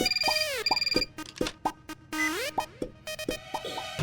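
A phone's ringback tune plays while a call is being placed: bright electronic melodic beeps and rising tones repeat in quick bursts for several seconds, loud and close, with no voices.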